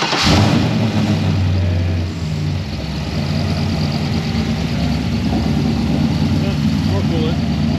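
A car engine fired up after a new transmission mount was fitted: a quick start followed by a steady loud idle with slight rev changes, close by, with people talking over it.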